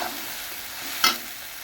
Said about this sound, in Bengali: এবার আমি কড়াইশুঁটির পেস্টটা দিয়ে দিচ্ছি।